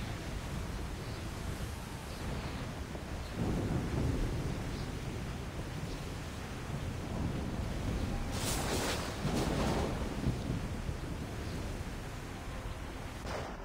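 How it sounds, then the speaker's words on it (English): Thunder in Assassin's Creed 3 Remastered rolls in low, heavy rumbling swells, with a louder crackling burst near the end, over continuous stormy noise and no talk. "Hit them with the thunder."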